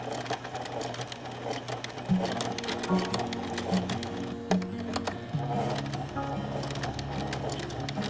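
A sewing machine stitches a cloth face mask in close, rapid mechanical bursts, its whirring hum starting and stopping several times as the seam is run back and forth, with no one talking.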